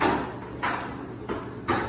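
A drawer on a malignant hyperthermia cart in a hospital is pulled open, giving three short sliding or clunking pushes at a steady spacing, close and without talk.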